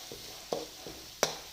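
Roasted and ground ginger paste sizzling in a hot pan for a sadya ginger curry, with several short scraping stirs that each bring a brief burst of frying hiss, close and clear with no talking.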